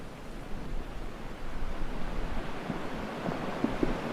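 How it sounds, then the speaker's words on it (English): Ocean waves wash in a steady, broad rush of surf close by, with wind buffeting the microphone and a few faint knocks near the end, no voices. "We'll listen to some relaxing ocean waves."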